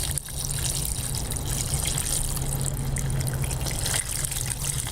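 Vinegar pours steadily into a 10-gallon hot water tank, a continuous close gurgling trickle with a low rumbling undertone that carries on without break.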